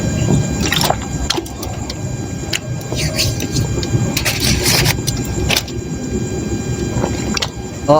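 Someone drinks water close by during a solo mukbang meal, with intermittent liquid splashes and gulping sounds over a low background.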